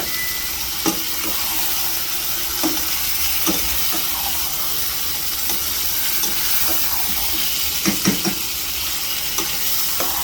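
Chicken curry stir-frying in a pan with a little water, a steady close sizzle and hiss with intermittent scraping stirs of a spoon, continuous and fairly loud with no talking.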